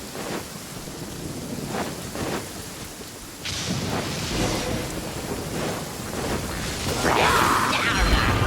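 Steady rainfall and rumbling thunder fill a Genshin Impact game scene, loud and continuous, swelling after a sharp crack partway through, with battle effects layered over the storm.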